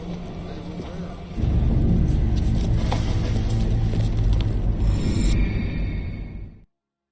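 A bus engine in the L.A. Noire video game swells into a loud, steady low rumble after a quieter start, holds for several seconds, then fades out abruptly.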